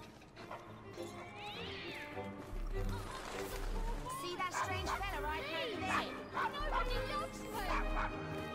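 A dog barks, yelps and whines in Assassin's Creed Syndicate, mixed with cat-like wailing, under a dense game soundtrack and characters talking.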